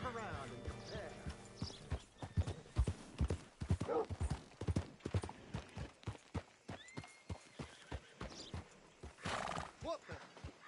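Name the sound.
horse hooves and neighing in video game Red Dead Redemption 2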